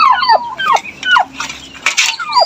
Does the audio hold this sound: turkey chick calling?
yes